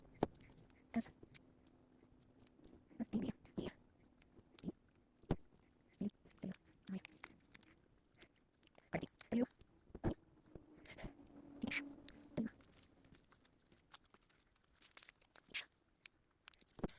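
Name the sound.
scissors cutting words out of paper for a zine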